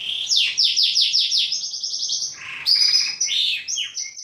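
A singer-type canary sings loudly and close up, with rapid repeated trills and warbling phrases flowing one into the next, and no other sounds around it.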